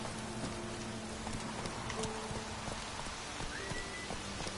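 Horse hooves in The Witcher 3, a steady trot of clip-clop steps under a rain-like wash of ambient game sound, moderately loud and continuous with no voices.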